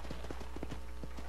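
Horse hooves clip-clop at a steady walking rhythm in the Western video game Red Dead Redemption, a faint, even series of soft thuds over a constant low hum.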